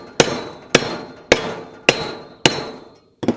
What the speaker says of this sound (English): just give it a good whack right there.